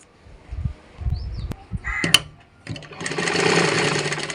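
A sewing machine stitches a folded cloth hem while making a petticoat from a sari, with a few scattered handling knocks and clicks before a steady, close mechanical whirr starts and runs to the end.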